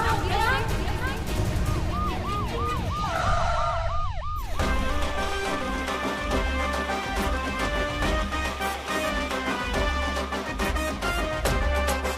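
An ambulance siren wails in a rising and falling pattern for a few seconds during a dramatic TV serial scene, then gives way to loud, swelling music.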